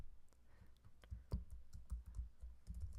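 Short bursts of typing on a computer keyboard while entering text in Cricut design software, crisp close key clicks in an irregular rhythm, fairly quiet with no talking.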